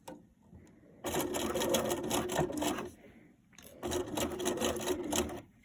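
A sewing machine runs in two steady bursts of stitching, stopping briefly in between, as it sews and back stitches the first stretch of a seam on a fabric gift bag; close and fairly loud, with no talk.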